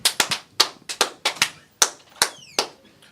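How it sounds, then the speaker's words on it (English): Hand claps in a podcast studio, about a dozen sharp, close claps in an uneven rhythm with short gaps, loud and dry, no voices over them. "He's clapping, and I'm going to clap"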